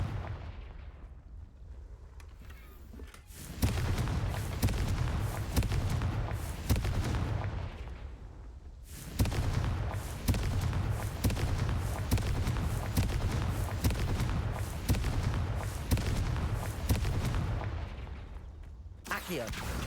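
Confringo spell blasts in the video game Hogwarts Legacy: a dense run of booming, crackling explosions rolls on almost without pause, broken by one brief lull, with a voice speaking over the start.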